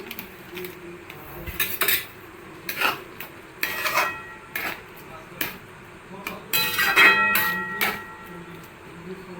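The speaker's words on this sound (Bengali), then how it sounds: "গরম মশলা দিয়ে নাড়িয়ে চাড়িয়ে দিই" Ghugni being stirred with garam masala in a pan as a finishing touch, a spoon scraping and clinking against the metal in irregular bursts over several seconds, fairly close.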